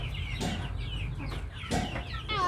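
Chickens on a poultry farm in town, clucking in several short bursts with scattered squawks, fairly close and moderately loud, with no talk.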